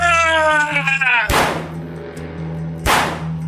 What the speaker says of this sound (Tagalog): Nagpalitan kami ng putok ng baril ni Tio Emong.